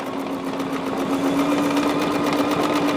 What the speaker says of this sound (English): we are just stitching on that seam line again, same as before